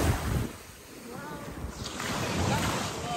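Waves wash onto a black water beach, surf swelling and receding under gusts of wind buffeting the microphone, fairly faint with a few voices in the background.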